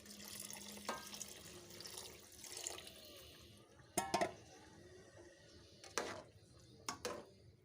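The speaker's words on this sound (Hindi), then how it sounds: "अब हम इसके अंदर पानी डाल देंगे।" Water runs steadily into a pot of rice for matar pulao, a soft continuous trickle broken by a few sharp clinks of metal and utensils against the pot.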